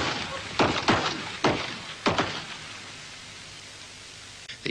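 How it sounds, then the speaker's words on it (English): Shots fired over a coffin at a paramilitary funeral in County Monaghan, several sharp cracks in quick pairs and singles with trailing echoes, loud against a hissing background. "Over the coffin, shots suddenly rang out."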